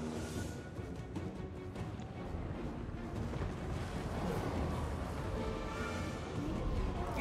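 Continuous dense battle noise from a Total War: Warhammer 3 fight as lizardmen attack a wall, with rumbling artillery and scattered gunfire blended into a steady loud din, and some faint voices mixed in.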